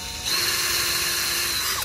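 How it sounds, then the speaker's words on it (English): Power drill boring holes in a steel boat trailer axle spacer, a steady close high-pitched whine starting after a brief pause and holding continuously to the end. "I'm gonna go and trace those holes I just made on that and drill that out"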